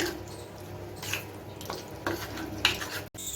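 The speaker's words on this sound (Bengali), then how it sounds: "দিয়ে এটা ভালো করে মিশিয়ে নিচ্ছি" A spoon stirs and scrapes through a bowl of flour and cornflour batter with soy sauce for loitta fish pakora, giving a few soft, irregular clinks and wet squelches up close.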